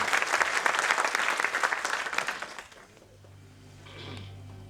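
A crowd at a program event applauds volunteer workers, thick clapping for a couple of seconds that cuts off abruptly, followed by a quieter stretch with a low hum and a faint tonal sound.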